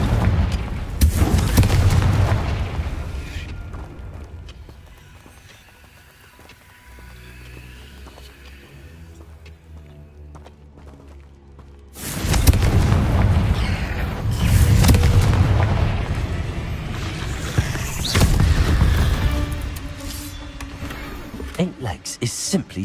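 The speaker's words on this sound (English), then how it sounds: "Confringo! Bombarda!" Booming fire-spell blasts from the video game Hogwarts Legacy erupt in loud, heavy bursts near the start and again in the second half, separated by a quieter stretch of game ambience and music.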